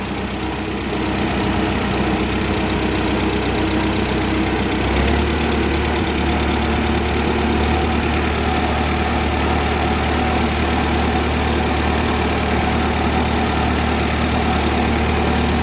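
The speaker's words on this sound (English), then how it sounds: "This engine just purrs." A Ford 9N/2N/8N Ferguson tractor engine runs steadily in gear on a lap around a yard, a smooth, even low-pitched drone that holds constant and close, with a slight knock in the rhythm.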